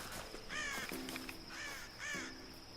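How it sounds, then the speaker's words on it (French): Crows caw repeatedly in the Tomb Raider video game, harsh calls in three bursts over steady ambient game noise. "Je peux niquer un oiseau?"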